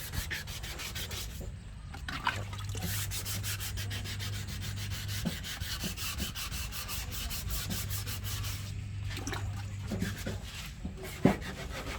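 Car paint being sanded off by hand, with continuous close rubbing and rasping strokes repeating steadily for several seconds and occasional light knocks, no voices present.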